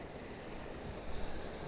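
Mountain water flowing down a stone channel at the Ingapirca site in Ecuador, a steady broadband rush with wind buffeting the microphone, fairly close and continuous with a slight swell toward the end.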